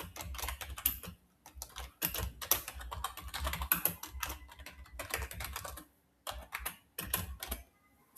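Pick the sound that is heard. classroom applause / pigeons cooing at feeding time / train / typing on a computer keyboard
typing on a computer keyboard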